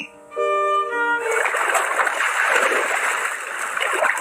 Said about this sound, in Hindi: सुबह सुबह पानी मुंह पर फेंके जाने के साथ टिया की नींद खुली।